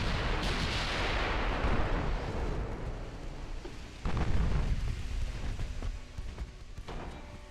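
Naval gunfire and shell hits in the game Ultimate Admiral Dreadnoughts, with big-calibre battleship guns from a 1930s French fleet booming repeatedly, a heavy rumbling barrage with sharp reports and lingering blasts, no voices.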